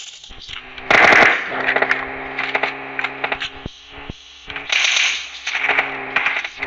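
Bursts of machine gun fire rattle in rapid, loud volleys in the PUBG battle royale game, some long and some clipped, with short gaps and scattered single shots between them.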